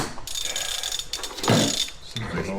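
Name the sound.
half-inch wrench tightening golf cart battery connection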